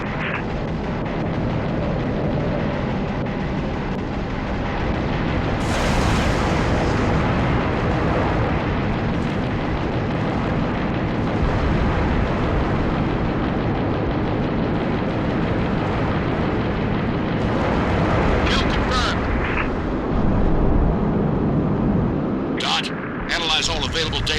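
Seraph ship blasting the player in Halo: Reach co-op, heavy continuous explosive weapon fire and booming impacts that last throughout, with in-game voices calling out over the noise.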